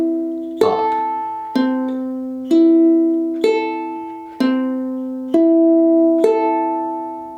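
A ukulele is fingerpicked with thumb, index and middle finger, giving seven clear plucked notes at a steady, unhurried pace, each ringing out and fading before the next, close and alone.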